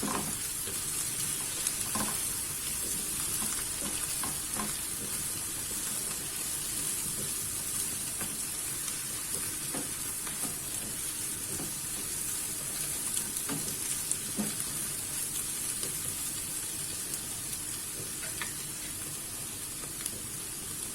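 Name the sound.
eggplant sautéing in a pan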